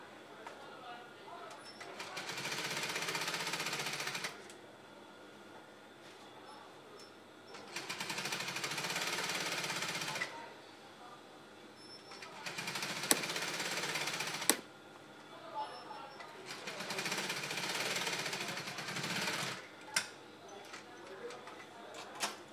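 Sewing machine stitching a high bended Yoruba cap, running in four long bursts of rapid mechanical whirring separated by pauses, with a few sharp clicks and handling sounds between runs, close and clear.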